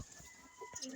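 A racing pigeon coos softly at close range, a brief low murmur against faint background noise.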